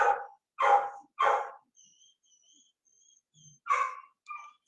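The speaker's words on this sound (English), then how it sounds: "I've got a dog out there acting crazy" A dog kept outside barks three times in quick succession, then pauses before one more bark and a short whimper, moderately near and otherwise alone.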